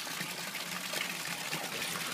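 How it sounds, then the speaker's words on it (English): A recycled garden pond's waterfall in a Las Vegas yard pours and splashes continuously, a close, even rush of falling water with no speech over it. "Give me the waterfall in the back."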